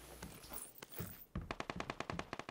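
Scattered shots in PlayerUnknown's Battlegrounds give way to a sharp burst of rapid automatic fire, evenly spaced cracks rattling out loudly for over a second.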